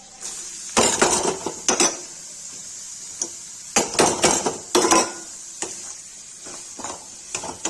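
Mutton liver and onions being stirred in a pan give off a string of clinking scrapes and metallic knocks of a spoon against the pan, coming in irregular bursts with quieter pauses between them.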